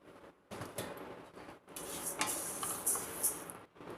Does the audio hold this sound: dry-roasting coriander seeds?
yes